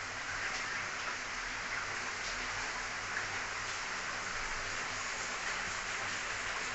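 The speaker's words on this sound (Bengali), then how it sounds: "বৃষ্টি হচ্ছে, খুব জোর বৃষ্টি হচ্ছে" Heavy rain falls outside in a steady, broadband hiss that holds at an even level throughout, with no breaks and no voices.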